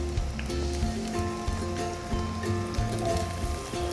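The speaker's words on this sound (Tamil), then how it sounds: "இதில் நான் வெங்காயம் சேர்த்துக்கிறேன்." Onions hitting hot oil in a kadai, giving a continuous close sizzle and patter with a steady low hum beneath and no voices.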